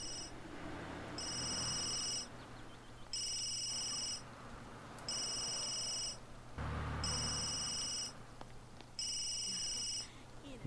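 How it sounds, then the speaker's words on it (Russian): A telephone rings repeatedly in The Sims 3, loud electronic trilling bursts of about a second each, separated by short gaps, over a soft in-game ambient bed. "Да возьми уже телефон."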